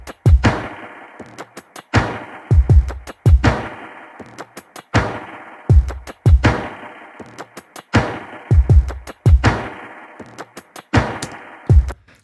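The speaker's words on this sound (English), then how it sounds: "it's like the main kick and snare sounds like this." A hard-hitting kick and snare drum beat processed with delay effects, repeating in a steady loop with echoing snare tails and punchy low kicks, loud and without speech.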